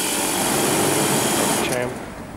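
An electric motor, just fitted with a new start capacitor, hums loudly and steadily from the outset, then its tone drops and fades near the end, with a voice briefly heard over it.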